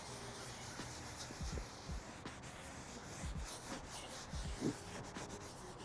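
Scrub pad working suds over a soiled, stained boat surface, giving soft repeated rubbing and scrubbing strokes close by, with occasional light knocks and no talk.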